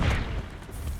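An impact grenade explodes in Call of Duty Black Ops 6 multiplayer, a single loud, deep boom that hits at once and fades into a rumbling tail within a second.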